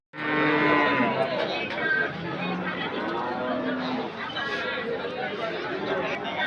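Cattle at a Sunday livestock market in Anthiyur, with animals lowing amid a steady babble of nearby voices and crowd chatter throughout.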